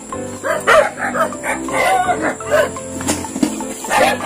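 Several dogs barking on a street, with repeated barks rising over a dense, noisy background and people talking nearby.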